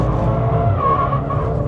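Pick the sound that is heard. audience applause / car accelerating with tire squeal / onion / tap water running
car accelerating with tire squeal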